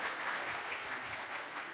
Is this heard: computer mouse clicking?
no